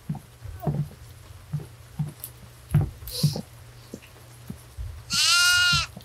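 A goat bleats once in the Devour horror game, a loud, wavering cry near the end, set against scattered footsteps and low rumbling game ambience.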